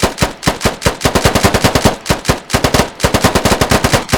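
Full-auto gunfire in the video game Squad: loud, close bursts of rapid shots, several strings of quick reports separated by brief gaps.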